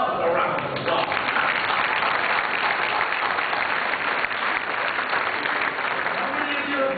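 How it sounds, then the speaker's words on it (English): A conference audience breaks into sustained applause, loud and dense, a continuous wash of many hands clapping close by without letting up. "So please give yourselves a round of applause."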